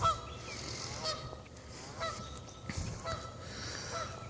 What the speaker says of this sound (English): those geese are making a racket.